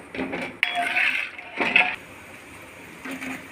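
Kokum syrup is stirred in a cooking pot, with a spoon clinking and scraping against the metal in a few short bursts separated by quieter pauses. No one speaks.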